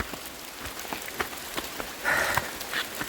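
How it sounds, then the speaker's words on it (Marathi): Steady rain patters on a surface, with scattered louder drops and a brief swell of splashing near the end; no voices. "आता पाऊस पडतो"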